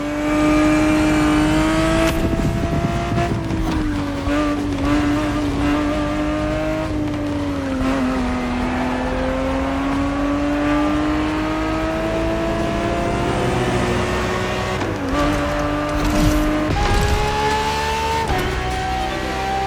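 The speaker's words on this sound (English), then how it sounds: "The Ferrari 365 GTB4 is the perfect vehicle for you to experience Ferrari racing as it felt back in the 70s" A Ferrari 365 GTB4 racing car in The Crew Motorfest roars steadily at high revs, its engine pitch rising and falling through gear changes, with brief dips and surges near the end and no voices.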